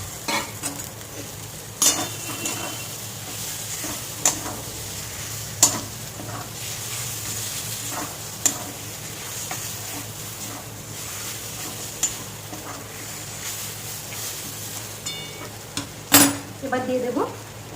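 Fried prawns are stirred in a pan for a kochu pata chingri dish, with a low continuous sizzle. Sharp clinks from a spoon striking the pan come at irregular intervals, and there is no talking.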